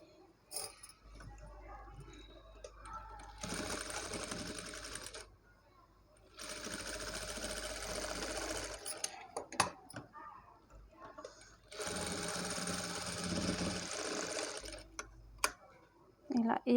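A sewing machine runs in three steady stretches of a few seconds each while stitching the neck joint of a blouse for a 10 to 11 year old girl. The hum is close, with soft handling clicks and a voice in the gaps.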